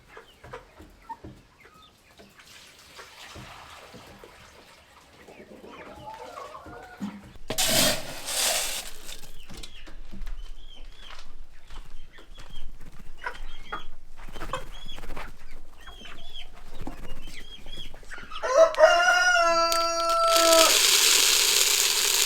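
Rhode Island chickens cluck in short, scattered calls around a backyard garden, joined by a rising rooster crow and loud flock noise toward the end, close by.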